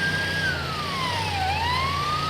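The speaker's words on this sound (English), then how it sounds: "Change my siren here." Emergency vehicle siren in the FiveM driving game, one long continuous wail sweeping slowly down then back up in pitch, loud and steady over a low engine hum, with no talking.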